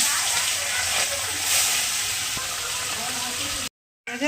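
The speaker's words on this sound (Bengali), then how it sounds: "মাছগুলো ভেজে নেব।" Tengra fish coated in salt and turmeric frying in hot oil in a kadai, a dense continuous sizzling hiss that cuts out briefly near the end.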